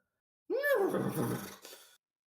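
Horses neigh as a sound effect in a Dungeons & Dragons live stream game, one rising and falling whinny lasting about a second and a half, moderately loud and alone.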